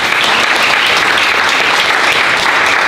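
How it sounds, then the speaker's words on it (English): A live audience breaks into a full round of applause, a loud, dense and steady wash of clapping hands with no break, heard up close. "I think we should give them a round of applause"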